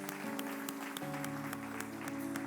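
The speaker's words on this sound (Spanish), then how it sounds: "Vamos a darle otro aplauso al Espíritu Santo." A church congregation claps during a worship service, with scattered sharp hand claps over sustained music tones, brief and fairly quiet.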